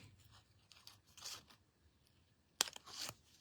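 Paper cardstock cut with scissors while making a greeting card: a few soft, brief snips and crunches spread across the clip, then one sharp loud snip near the end with a short rustle after it, nearby and quiet.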